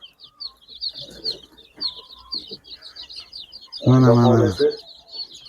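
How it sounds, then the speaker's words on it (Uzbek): Barkovsky Barvisty chickens cluck and chirp nearby in a steady run of short high calls, with one louder drawn-out squawk near the end. "ikkita ikki xil tovuq yuribdi"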